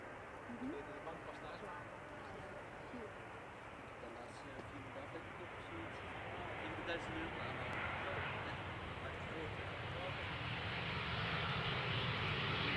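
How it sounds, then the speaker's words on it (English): KLM Embraer 190 airliner, first flown 2009, arriving at Amsterdam Schiphol, a faint distant engine rumble that gradually swells louder as it approaches, with talking over it. "First airplane coming in, KLM flight 1788 arriving from Hanover."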